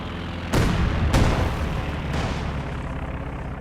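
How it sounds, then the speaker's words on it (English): In the Company of Heroes 2 video game, a Stuka dive bomber strike lands as heavy booming explosions, three sharp blasts with long rumbling tails layered over ongoing battle noise. "a Stuka bombing strike called in"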